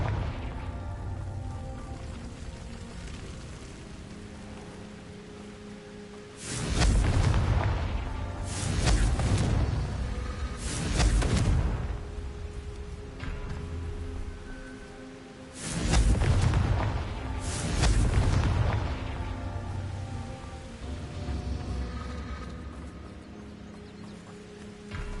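Confringo blasting curses go off in Hogwarts Legacy, two groups of heavy booming explosions a few seconds apart, each a cluster of three or four deep blasts over a steady background of ambient game music.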